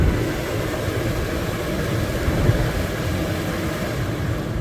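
The air conditioning fan in a 1999 Plymouth Prowler blows hard and steady, a dense broadband whoosh filling the cabin with even loudness and no voices over it.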